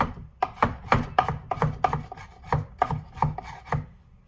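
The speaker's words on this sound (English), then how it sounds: "if you want more chop, more finely chopped, you can chop like this" A chef knife chops food on a cutting board in a quick series of about fifteen crisp, close knocks, irregularly spaced and fading out at the end, with no voices.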